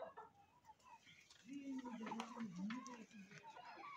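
Adler chickens, a small breed already laying eggs, clucking and calling in a poultry house, with a strong drawn-out call in the middle among softer clucks and a person talking nearby.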